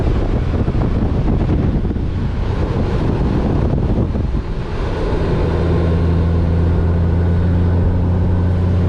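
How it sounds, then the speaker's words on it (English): Strong wind buffeting the microphone in a constant loud roar on a scenic road near Sweet Arrow Lake, with a low engine hum settling in partway through. "Wow, the wind picked up, so yeah, it's windy here."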